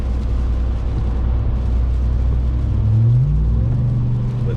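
A Ram TRX pickup truck drives through heavy rain, a loud, constant low engine and road rumble under a broad wash of spray. Midway the pitch climbs briefly as it accelerates, and no one speaks.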